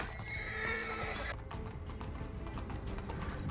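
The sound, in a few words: horse neighing and hooves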